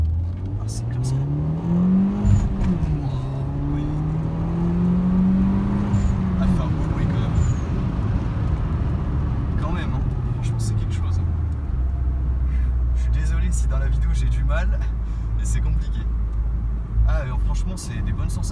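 A Peugeot 208 GTI with a turbocharged engine prepared by Peugeot Sport revs up and down, its pitch rising, falling and settling into a steady low drone, with people talking over it inside the car.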